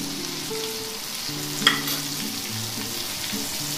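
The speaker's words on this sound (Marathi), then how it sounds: "आता पलटी करायची आपल्याला आणि स्लो गॅसवर तळायचे आहे" Chicken popcorn pieces fry in oil over a low gas flame, a soft, steady sizzle with a brief louder crackle midway, under faint background tones.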